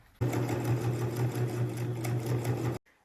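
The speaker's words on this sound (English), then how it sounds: "we want to sew around the outside with just a 1/8 inch seam allowance that'll close the opening and top stitch the outside" Sewing machine running steadily for about two and a half seconds, stitching a 1/8 inch top-stitched seam around the outside of a small fabric basket or bin; close, loud and even, with no talking.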